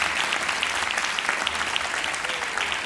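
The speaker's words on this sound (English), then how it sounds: "Applause, a very big applause for the mom." Steady applause from an audience at a Shia youth lecture, sustained clapping for a mother filling the whole moment with no voices on top.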